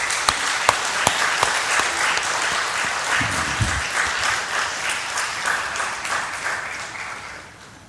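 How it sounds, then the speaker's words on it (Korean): Applause from a church congregation at a Sunday worship service, welcoming members who run a fruit farm, steady dense clapping with a few sharp claps early on, fading toward the end. "우리 박수로 맞이합시다."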